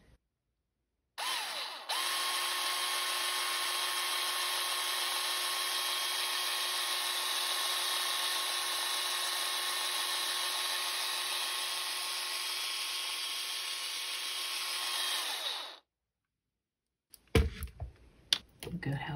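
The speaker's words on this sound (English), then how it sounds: "The drill is the most efficient way to do it." A power drill spins steadily for about fourteen seconds while twisting wire for wire wrapping, a close, even high whine that stops abruptly, followed by a few faint clicks.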